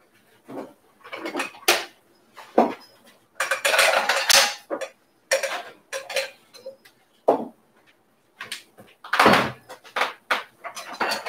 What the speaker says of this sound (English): And I'm gonna grab our dishes.